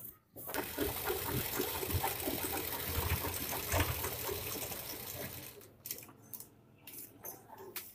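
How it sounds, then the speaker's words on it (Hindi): A sewing machine runs in a continuous whir as it stitches down the frill on a petticoat, steady for about five seconds before stopping, followed by a few faint clicks and handling sounds. "अब हम एक सिलाई ऊपर से लगाएंगे ताकि हमारी झालर दब जाए।"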